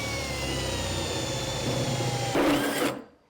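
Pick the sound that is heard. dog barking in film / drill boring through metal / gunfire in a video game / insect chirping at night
drill boring through metal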